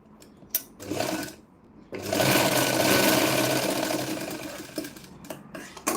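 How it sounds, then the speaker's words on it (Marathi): A sewing machine runs close up, stitching the shoulder cover of a blouse in a short burst, then a longer steady whirring run of several seconds with brief pauses. "इथं अशी शिलाई मारून घ्यायची एकदम कडीने डबल शिलाई मारायची"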